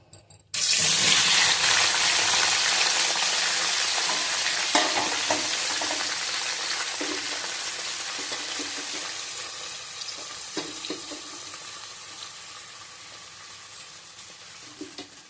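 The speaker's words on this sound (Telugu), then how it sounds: "ఇప్పుడు ఈ ఆనియన్, టొమాటో ఫ్రై అయ్యేలోపు మనం చికెన్ని మ్యారినేట్ చేసుకుందాం" Onions and tomatoes are dropped into hot oil for a chicken curry and burst into a loud, close sizzle that stays steady, then slowly softens as the frying goes on.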